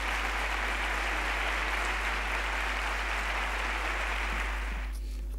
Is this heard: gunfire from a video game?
no